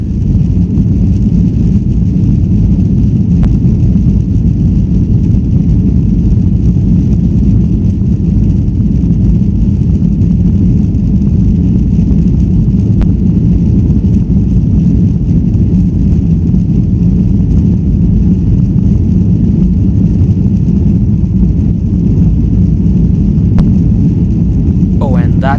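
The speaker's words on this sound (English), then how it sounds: "seems like we've got clearance for takeoff" A passenger airliner on its takeoff roll, heard from inside the cabin as a loud, steady low roar of engine and rolling noise that holds constant throughout.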